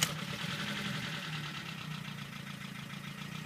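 A BMW E30 with an M40 engine, its cylinder head rebuilt, idles steadily with a faint, reduced knock, a close, even mid-pitched rumble after a sharp start.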